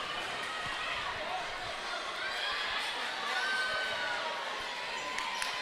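St. Peter's cheerleaders cheering in a gym during a boys basketball game at Mansfield Christian, a busy crowd wash of shouts and chants heard somewhat distant, with sneaker squeaks and ball bounces, under an announcer's talk.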